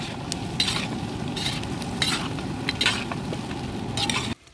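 A big 15 kg batch of chicken deep frying in oil gives a steady, dense sizzle with repeated louder bursts of stirring, then cuts off abruptly at the end, with no one speaking.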